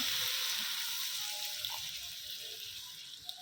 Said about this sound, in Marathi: यामध्ये आपल्याला पाणी टाकून घ्यायचं आहे